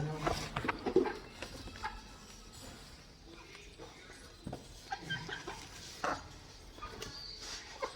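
Free-range country hens cluck in scattered bursts at a moderate distance, with soft rustling and background noise between calls.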